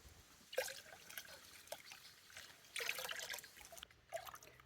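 A stirred homemade pear wine mixture is poured into a container, making faint, soft trickling and splashing bursts that come and go over a quiet background, with no voices.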